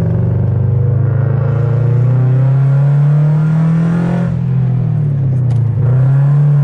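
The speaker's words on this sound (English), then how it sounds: "that rumble, that Subaru rumble that sounds great" Subaru BRZ with an aftermarket exhaust rumbling while driving, a loud deep continuous drone that swells, eases off, and dips on a shift before settling again.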